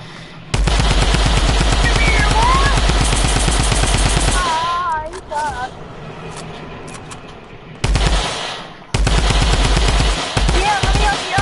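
Rapid automatic gunfire in a video game, loud and sustained in long bursts with brief gaps, while players talk and shout over it.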